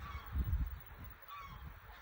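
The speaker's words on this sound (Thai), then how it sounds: "ห่านมาแล้วห่านมาแล้ว" Geese honk repeatedly at close range, a loud burst of calls at first, then softer honking continuing throughout.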